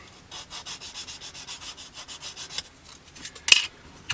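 Rhythmic back-and-forth sanding of plastic scale model kit parts for a 1/48 Hawk T1, close and steady strokes that slow and break up near the end with a brief clatter.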